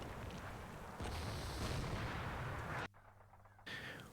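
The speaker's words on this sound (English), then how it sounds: "the 75mm artillery hits their targets" Heavy booming 75mm artillery fire in a Combat Mission World War II battle game near Cheneux, a dense continuous rumble of blasts that cuts out briefly and resumes, with no talking.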